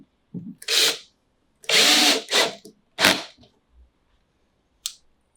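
A screw gun drives screws into a PVC vivarium rack in short bursts, with four loud, close whirring runs separated by pauses, plus a small click near the end.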